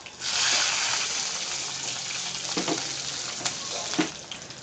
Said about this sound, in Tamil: சோம்பு போட்டுப்போம், கருவேப்பிலை, பச்சை மிளகாய்